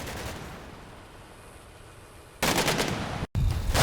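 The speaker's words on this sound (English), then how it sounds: "BTR is moving up, possibly with infantry and ammunition next to it. It is providing suppressive fire in the general direction of the village." Suppressive automatic fire from a BTR armored vehicle in the war game Combat Mission: Black Sea, a loud, dense burst of gunfire over a low background rumble, briefly cutting out before resuming.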